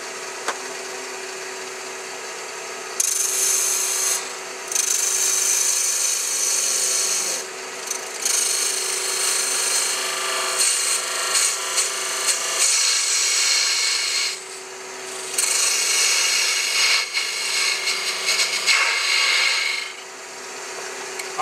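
Wood is cut on a lathe with a hand-guided cutter, producing a continuous close rasping, shaving hiss that swells and drops in long bursts as pressure changes, with no talking.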